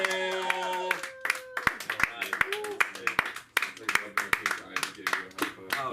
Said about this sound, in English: give a warm hand of applause for the very talented Barrett Carroll